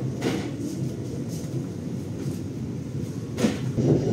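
The Gaya Baru Malam Selatan passenger train rolls on rails after leaving a station, a steady low rumble with periodic wheel clacks and rattling carriage noises, heard close up from on board.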